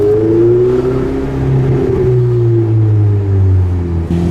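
A turbocharged Ferrari 488 GTB engine rumbles close by with a muffled, deep note, its pitch sliding slowly downward as the revs ease off over a few seconds.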